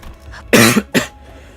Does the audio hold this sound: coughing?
yes